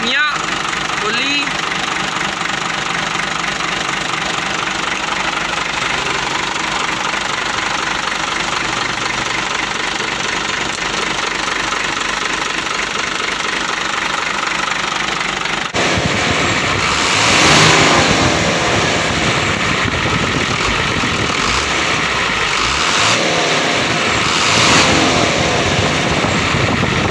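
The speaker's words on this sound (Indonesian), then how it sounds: "Untuk hidup mesin langsung sekali start ya." A Hino Lohan 500 truck engine starting on the first try and running, a steady broadband diesel rumble that carries throughout, growing rougher and louder midway with brief revving.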